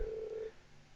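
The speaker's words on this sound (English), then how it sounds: "Why are we ringing the bells this late?" A single bell-like tone rings in the Trails of Cold Steel video game, one sustained clear note that holds for about half a second and then fades.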